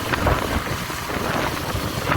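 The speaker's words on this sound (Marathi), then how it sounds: "काहीच तर आता पाऊस पण आलेला आहे." Steady, dense rain hiss fills the whole stretch, loud and close, with no voices over it.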